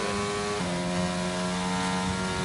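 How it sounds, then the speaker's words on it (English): A Renault race car engine in a racing video game holds a steady, loud, sustained drone that shifts pitch once, with no talk over it. "I don't know if I'm a huge fan of the Renault engine."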